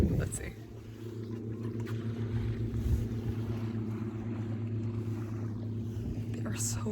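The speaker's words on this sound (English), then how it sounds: "Oh, there's a sailing boat. Yeah, the boats here are getting super close." A steady low engine drone and water wash from boats, including a sailing boat, passing close on the water at Västerås, Sweden, with wind buffeting the microphone throughout.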